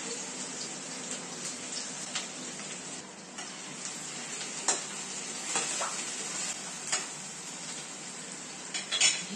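Chopped onion and garlic hit hot oil in a pan, setting off a loud, continuous sizzle that holds steady throughout, dotted with occasional stirring clicks and scrapes; no voices.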